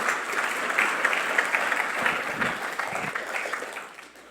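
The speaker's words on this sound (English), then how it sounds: "Would you guys give him and God a clap offering this morning?" A church congregation at a morning chapel service claps for a drummer's first time playing, giving sustained, dense applause from a crowd that tapers off near the end.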